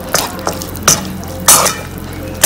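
Garlic mushroom chicken with black pepper and cayenne being stirred in a pan, with a few separate scraping and clinking strokes of the utensil against the pan over a faint simmer.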